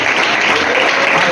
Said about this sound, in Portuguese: batendo palmas para glorificar o nome de Jesus